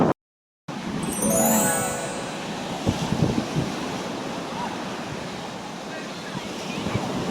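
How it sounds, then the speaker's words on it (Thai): Strong wind and rough surf at Sai Kaew beach roar steadily and close, a dense broadband rush with gusting swells, after a brief dropout at the start. "ไม่รู้ว่าจะรอดไหมเพราะว่าตอนนี้ลมแรงมาก"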